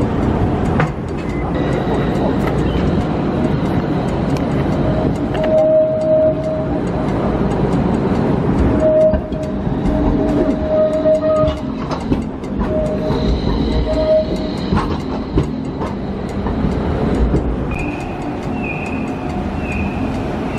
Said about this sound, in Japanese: いやー、この電車はレトロやった。